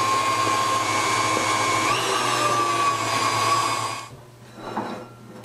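An electric mixer beating egg whites and sugar for espresso meringue, a loud continuous motor whine with a slight pitch shift midway, then cutting out abruptly near the end, leaving quieter handling noise.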